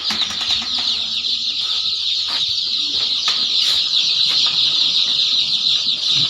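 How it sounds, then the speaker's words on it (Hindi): Chickens and chicks on a poultry farm cluck and cheep together in a constant shrill chorus, with occasional wing flaps and louder squawks close by, no talking. "तो अभी मैं आपको चूज़ा अपना विजिट करवाता हूँ"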